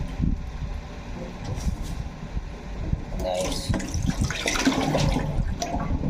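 Tap water runs and splashes while raw chicken is washed before cooking kinamatisang manok, a gushing flow that swells in the second half, with a person talking over it.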